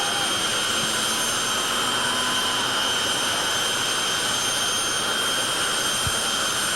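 Steady high whine and roar of a jet-powered drag racing car's turbine engine at Labatt Raceway, sustained and unbroken at moderate distance with no talk over it.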